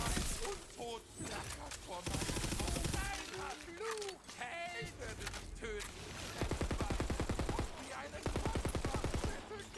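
Dense gunfire from the looter-shooter video game Tiny Tina's Wonderlands, with rapid automatic bursts, shots and shattering impacts, plays loud and nearly continuous, mixed with game effects and voices.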